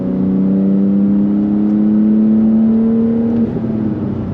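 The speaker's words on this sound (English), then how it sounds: "Even with the modded Akrapovic titanium catback exhaust, you're getting plenty of good sound" A modded 700HP 2025 Porsche 911 Turbo S with an Akrapovic titanium catback exhaust hums and climbs steadily in pitch as it accelerates through the gears, then drops briefly near the end. Smooth, close and fairly loud.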